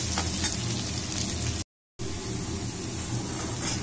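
Onions sautéing in a pan for Chettinad-style yam (karunai kizhangu) masiyal give off a steady, dense sizzle, broken by a brief silent gap midway before the frying resumes.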